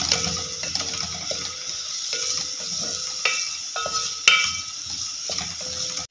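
Chopped onion sautés in melted ghee with a continuous sizzle, while a spoon stirs and scrapes against the pan in repeated clinks and scrapes, with one sharper knock partway through.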